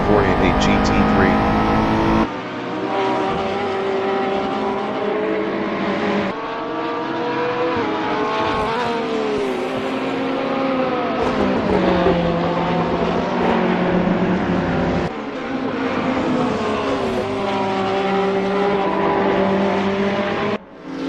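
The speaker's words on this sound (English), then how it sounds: "BR Mago in Hawthorns Bend is P4 on mediums driving a Ferrari 488 GT3" GT3 race cars, including a Ferrari 488 GT3, roar around Brands Hatch in a racing game, a loud continuous engine drone with shifting pitch as gears change and cars pass, under steady commentary talk.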